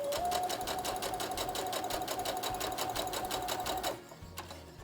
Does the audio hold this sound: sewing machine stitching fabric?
yes